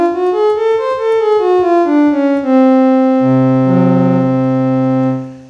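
A synthesized tone steps through a scale tuned to 53 equal divisions of the octave, quick successive notes followed by a longer sustained pitch and a lower held note, clean and close.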